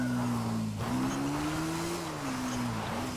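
A motorbike ridden in the video game GTA 5 holds a steady engine tone that dips briefly and then rises and wavers in pitch, loud and continuous with no talk over it.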